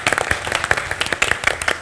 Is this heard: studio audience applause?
yes